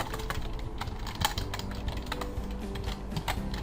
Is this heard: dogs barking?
no